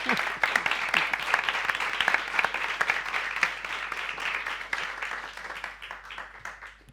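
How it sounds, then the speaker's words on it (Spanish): An audience at a literary festival event in Costa Rica applauds, a lively mass of individual claps with sharp, distinct hand strikes throughout, fading slightly near the end. "Sí, bueno, un aplauso a esta mesa."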